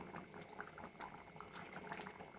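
Fish curry (kuzhambu) with catfish simmering in a pot, giving a soft, steady bubbling and gentle crackle that stays faint and close throughout, with no talking.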